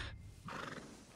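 A horse neighs briefly in Red Dead Redemption 2, a short, close and fairly loud whinny followed by breathy snorting, heard alone without speech.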